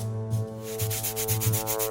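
A saw cuts through a very large burger in rhythmic back-and-forth strokes, each one a scratchy rasp repeating about every half second, close and fairly loud over a low steady hum.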